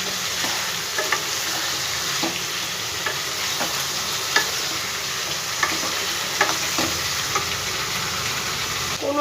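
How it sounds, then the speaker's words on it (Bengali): Potato curry cooked without spices is stirred in a pan over a medium gas flame, with steady frying sizzle under repeated scraping and clinking strokes of the spoon, close and fairly loud throughout. "ভালো করে আবার একটু নাড়াচাড়া করে দেবো।"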